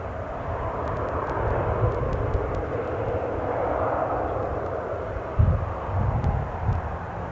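An airplane departs from Newcastle airport, a steady broad jet roar that swells a little midway, with a few brief lower bumps near the end and no talk.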